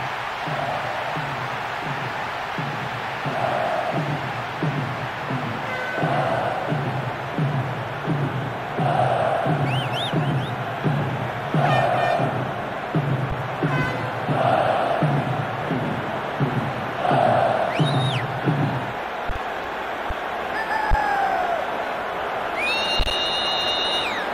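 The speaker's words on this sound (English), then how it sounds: "The crowd wait to offer them a red-hot welcome." Stadium crowd in the eFootball PES 2023 football game: a continuous roar with rhythmic chanting pulses that drops away near the end, with a few whistle-like tones and game sounds breaking through.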